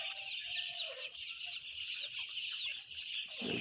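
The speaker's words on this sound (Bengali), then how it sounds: "আমাদের মুরগি আজকে 4 দিন।" Many young four-day-old chicks cheep continuously in a dense, high-pitched chorus, close and steady throughout, with no talking.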